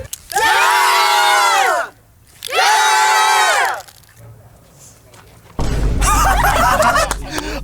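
A crowd at a giant spray paint art competition erupts in two loud cheering bursts with a short lull between them, then a noisier wave of shouting and excited voices follows.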